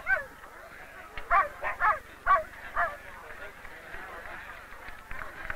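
Several sled dogs bark in a quick burst of sharp yips, a handful of barks over steady background noise, fairly close.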